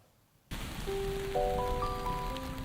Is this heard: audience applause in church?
no